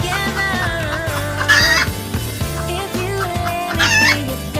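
Egg-laying chickens cluck close by in a repeated rhythmic pattern, with a couple of louder higher squawks standing out above the steady clucking, no talking.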